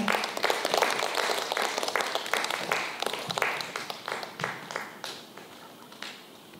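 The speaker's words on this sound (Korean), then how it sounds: "작가님을 앞으로 모시겠습니다. 박수 부탁드립니다." An audience at a literary reading event applauds to welcome an author to the stage, dense crowd clapping that starts full and gradually thins and fades toward the end, with no talk.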